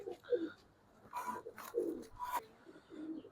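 A silver, newly adult female pigeon cooing: soft, low, repeated coos at close range with quiet background noise between them.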